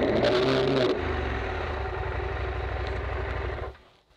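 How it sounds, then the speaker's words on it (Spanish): A motorcycle engine held at full throttle while stuck in mud in Aragón, Spain, roaring loud and close with a strained, steady drone before dropping off abruptly near the end. "si le doy gas a fondo saco la moto"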